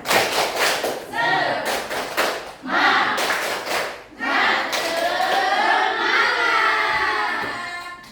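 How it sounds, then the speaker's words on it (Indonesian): A standing group performs a spirited rhythmic clap in bursts, sharp hand claps with thumps, mixed with shouted chanting voices throughout. "Nah, kita sedikit tepuk semangat."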